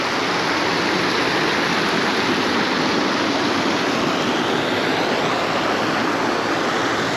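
Steady rush of running water from a park fountain in Sa Riera Park, Palma de Mallorca, a continuous broadband splashing wash that holds level throughout without pause.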